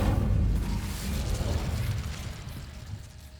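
An Incendio fire spell cast in Hogwarts Legacy, heard as a loud, rumbling whoosh of flame that bursts out at once and slowly fades over a few seconds, with no talking.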